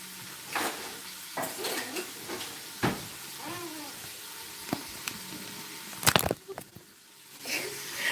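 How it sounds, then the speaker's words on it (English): Ingredients for Hawaiian pork sauté in a pan with an intermittent sizzle, broken by clanks of utensils against the pan, tossing sounds and a sharp metallic clatter late on, with faint voices in the background. "I'm tossing all that in there as it sautés"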